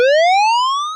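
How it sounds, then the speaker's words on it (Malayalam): An all-clear siren from a mock security drill gives a single loud, steady tone that glides slowly upward in pitch over about a second, heard alone. "4:28 മുതൽ സുരക്ഷിതം എന്ന സൈറൺ 30 സെക്കൻഡ് മുഴുകും"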